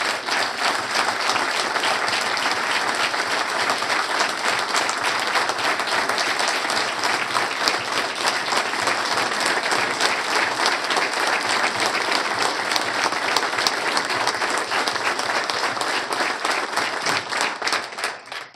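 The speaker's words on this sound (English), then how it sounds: "I want you all to give this lady a round of applause." An audience at a county board of commissioners meeting gives a long, sustained round of applause, dense and loud clapping holding steady for nearly twenty seconds before tapering off at the end.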